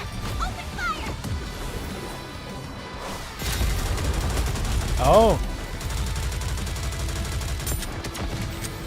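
Cannon blasts and rapid gunfire from the Goddess of Victory: NIKKE game roll through in loud overlapping bursts, building to a heavier impact midway, while a voice exclaims briefly.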